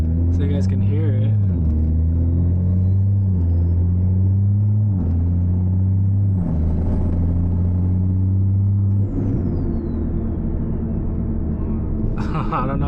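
A turbocharged car engine with a T51R turbo drones loudly from inside the cabin, rising through gears with repeated revving climbs and a turbo whine, steady road rumble underneath.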